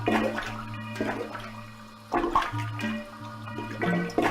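Toilet water sloshing and gurgling inside the video game Shivers, a series of watery flushing swells with short surges and tonal hum beneath, moderately loud and close with no talking.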